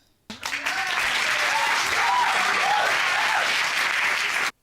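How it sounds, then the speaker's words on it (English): Studio audience applause on a couples court TV show: a loud, continuous wash of clapping that starts abruptly and cuts off sharply, with voices cheering or calling out over it. "I'm going to clap on that one, too."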